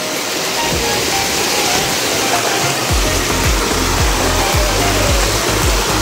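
Water pours steadily down Donne waterfall in the forest near Hichkad, Ankola, a loud, dense, continuous rush close by that fills the whole stretch.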